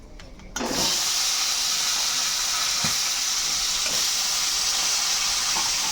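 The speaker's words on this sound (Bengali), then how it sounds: "মাছের মাথা সব ভাজা হয়ে গেছে।" Rohu and katla fish heads fry in hot oil, a loud, dense, continuous sizzle and hiss that bursts in suddenly, with a few faint clinks of stirring beneath it.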